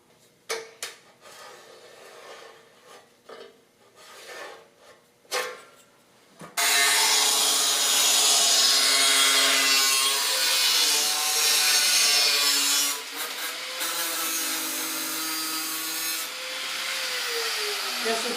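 A power cutting tool grinds through welded-up metal parts on a 1976 Mazda RX front bumper: after a few soft knocks and handling sounds, a loud, steady, harsh whine starts abruptly and runs continuously, dipping slightly in pitch as it bites.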